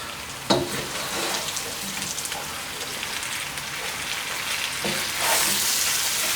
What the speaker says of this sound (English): I'm going to add in 1 heaped tablespoon of crushed garlic here